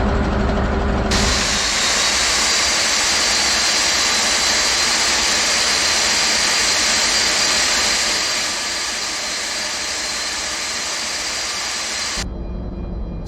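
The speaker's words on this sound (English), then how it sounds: "Starting number 2. Starting engine 2." A Boeing 747-200 jet engine spools up in X-Plane 11, a loud steady roar with a high whine that cuts in abruptly, holds evenly, then drops off suddenly at the end.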